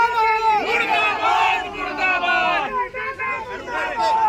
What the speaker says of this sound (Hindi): मुर्दाबाद के नारे लगाए जा रहे हैं।